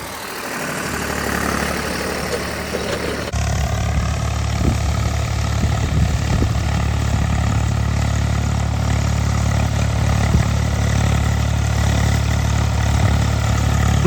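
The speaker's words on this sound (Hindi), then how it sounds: "दूसरे गियर में दोस्तों थोड़ा तेज चलेगा ट्रैक्टर।" Tractor engine running steadily in second gear at about 1600 RPM, a continuous loud low drone with a faint whine above it, the pitch and level stepping up slightly a few seconds in and then holding steady.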